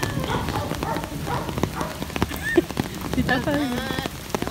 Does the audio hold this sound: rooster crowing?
no